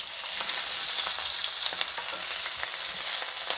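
Shrimp frying in olive oil for black squid ink pasta, a steady close sizzle and crackle with scattered pops, fairly quiet and continuous with no talking.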